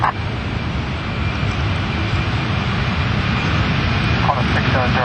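A JAL Boeing 747 takes off at Sydney Airport with a loud, continuous broadband jet engine roar that holds steady throughout.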